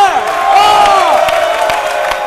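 A crowd cheers and whoops for the doctor, voices rising and falling in loud, overlapping shouts with scattered claps underneath, close and sustained.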